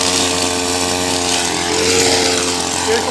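A grass-cutting machine drones steadily and close by while trimming grass during tree-care work, a constant loud engine hum with a buzzing whine and no talk.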